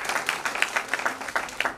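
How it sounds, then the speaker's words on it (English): An audience at an academic international seminar claps for a guest, a moderately loud run of clapping with distinct individual claps standing out in a loose rhythm. "Please give him a big round of applause."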